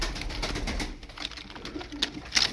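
Feleksiz Oyun Kuşu pigeons coo softly and repeatedly in a low, throaty murmur, with faint rustling and brief higher chirps near the end.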